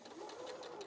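A sewing machine stitching in a short, quick run, its needle chattering rhythmically at close range with a fairly steady motor whir.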